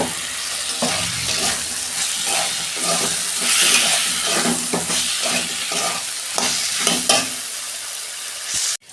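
Cauliflower and potato pieces sizzle loudly in hot oil in a pan, with stirring scrapes and clatters recurring over steady frying hiss, close and continuous until a sudden stop at the end.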